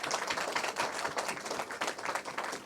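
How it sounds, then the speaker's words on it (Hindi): An audience at a Hindi poetry reading in Mandi House claps in a dense, steady burst of many hands, fairly loud and sustained throughout with no talking. "एक बार जोरदार तालियां बजाइए।"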